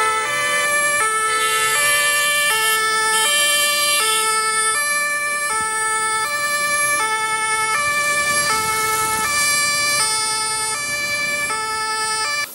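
Ambulance siren in Lagos traffic, a loud, close two-tone wail alternating in a steady rhythm for the whole stretch over faint road noise.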